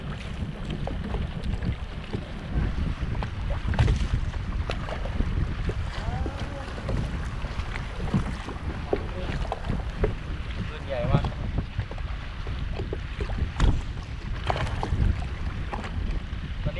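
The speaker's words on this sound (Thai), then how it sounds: "ลมมันแรงมาก แรงมากเลย" Strong wind gusts buffet the microphone over choppy water near a bridge, a steady roaring rush with splashes and knocks from a small paddled fishing boat throughout.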